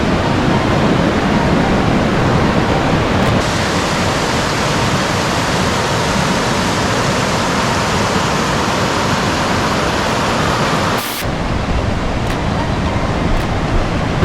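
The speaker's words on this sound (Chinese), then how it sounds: "现在我到了第2条，小溪现在变成河流了。" A mountain stream grown to river size rushes beside a walking path near Rila Monastery in Bulgaria. The roar is loud, close and continuous, with only a brief dip near the end.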